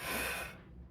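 A single sharp breath forced out hard during a Romanian deadlift rep, loud at first and then trailing off within a second.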